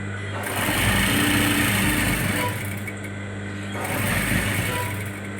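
A sewing machine stitching two sleeve pieces together, with a loud, close, fast mechanical whir that runs in two bursts separated by a brief slowdown.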